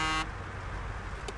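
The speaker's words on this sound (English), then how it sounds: "This honk sounds ridiculous." A truck horn in the Snowrunner video game sounds one short, loud honk at the start, then cuts off, leaving a low engine rumble underneath and a brief faint blip near the end.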